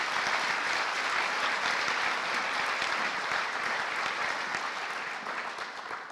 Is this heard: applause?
yes